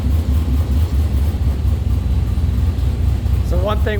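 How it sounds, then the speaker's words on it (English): Superlite Aero car exhaust with the muffler bypass open for free flow, giving a steady low rumbling engine note close by, with a brief voice near the end. "It has a remote control that you just hit the button and you'll hear the exhaust note change."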